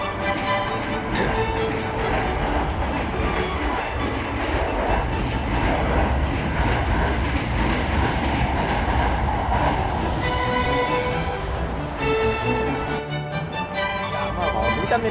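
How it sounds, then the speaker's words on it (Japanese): A Hankyu electric train rolls past near Yamada station, a loud continuous rumble with rhythmic wheel clatter filling the whole stretch and a faint voice briefly underneath. "あ阪急電車来たよ。"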